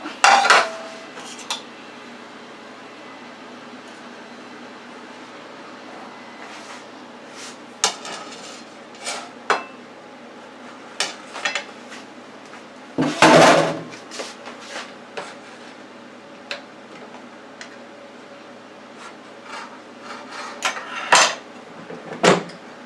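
A T-bone steak is lifted from a Power Air Fryer Oven and plated, with scattered clinks of metal utensils and dishes, one louder clatter midway, over a steady low background hum.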